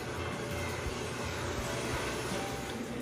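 A model train engine runs down by the tracks with a steady, dense mechanical whirring and rumble that holds at an even level throughout, with no voices.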